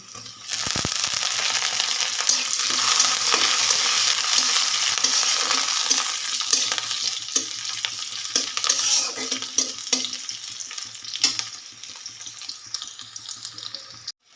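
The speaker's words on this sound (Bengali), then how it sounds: "প্রথমেই কড়াইতে দিয়ে দিচ্ছি সাদা তেল গরম হলে দিয়ে দিচ্ছি পেঁয়াজ কুচি" Chopped onions fry in hot white oil in a kadai, a dense continuous sizzle and crackle up close with occasional stirring clatter, lasting throughout without speech.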